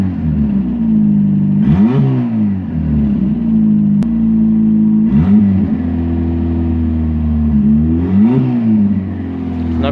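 A Renault Clio engine runs steadily at idle, a continuous mid-pitched hum with a few brief swells as it revs slightly, close by and loud, with no one talking over it.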